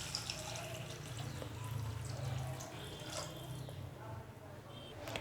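Water pours into a pan of sautéed carrots for rava upma, a steady splashing stream heard close and fairly soft over kitchen background noise.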